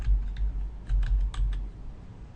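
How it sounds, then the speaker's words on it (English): An account number typed on a computer keyboard in two quick bursts of key clicks, close by and alone, with a short pause between the bursts. "So I'll go ahead and click in this field and type the numbers I see there."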